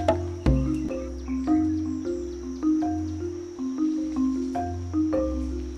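Frogs croak close by in a steady, repeating rhythm, loud, low, resonant calls pulsing about once a second with faint insect chirping behind.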